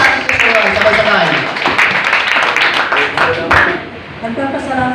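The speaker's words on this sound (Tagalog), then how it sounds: "Sige, palakpak sa ating Diyos ng buhay." A church congregation claps together in a lively round of applause, brisk and continuous, with voices speaking over the clapping.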